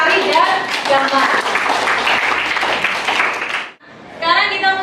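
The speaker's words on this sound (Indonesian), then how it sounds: "beri tepuk tangan buat Sari dan Damar" A classroom full of pupils clapping for two students, Sari and Damar, in a dense burst of applause with voices talking over it, which dies away abruptly before a voice resumes.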